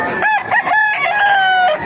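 Roosters crow loudly and up close in repeated overlapping calls at an open-air chicken market in Baliuag, Bulacan, with other fowl clucking around them and no speech over the crowing.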